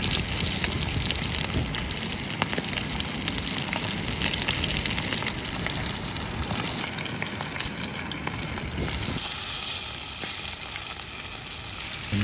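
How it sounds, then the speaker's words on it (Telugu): Fish fries loudly in hot oil in a pan at a riverside cookout, a dense, continuous close-up sizzle and crackle that holds steady the whole time, with no talk. "ఇదైతే ఫ్రై అయిపోయింది"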